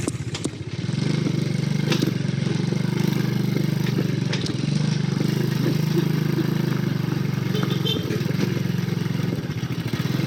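A motorcycle engine rumbles steadily and close throughout, with occasional clattering knocks and rattles as it rolls over a rough, potholed road.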